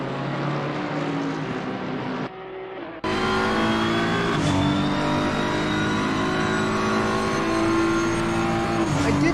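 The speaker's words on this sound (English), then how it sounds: "Hopefully you can still hear me over the engine." Race car engine in a sim racing game at Zandvoort, a loud continuous high-revving drone with rising pitch through the gears, briefly dropping for a shift before climbing again.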